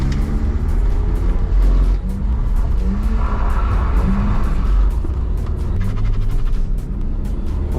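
A BMW E46 320i with stock suspension revs hard while drifting on a wet track in the rain, the engine droning loudly and continuously close by with rising and falling pitch.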